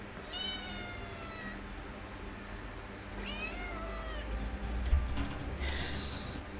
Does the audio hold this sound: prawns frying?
no